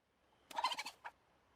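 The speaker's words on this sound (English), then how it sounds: "Happy chicken noises." A chicken in a farming video game lets out a quick run of clucking calls, then one last short cluck after a brief pause, heard close and fairly quiet with nothing else around it.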